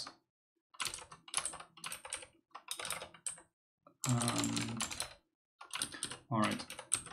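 Rapid keystrokes on a computer keyboard during a coding session, clattering in close bursts with short pauses between runs, clear and alone with no talk.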